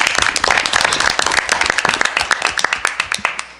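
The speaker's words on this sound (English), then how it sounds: "she does deserve that round of applause" An audience at a school board of education meeting claps in applause, brisk and close at first, then thinning into scattered individual claps before fading out.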